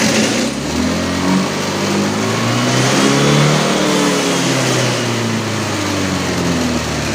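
Honda motorcycle engine revving hard as the throttle is twisted, pitch climbing and falling in a loud, continuous, close-up whine that runs the whole clip without talk.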